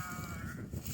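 A White Dorper sheep on a pasture farm gives a short bleat, moderately near, over low outdoor background noise.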